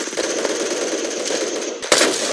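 Rapid gunfire in the Roblox shooter Phantom Forces, a fast, loud run of close shots that breaks off briefly before a final sharp blast.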